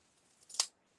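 Scissors trimming a piece of card while making a double Z-fold card: one short, crisp snip, close and clear, in an otherwise quiet room with no talking.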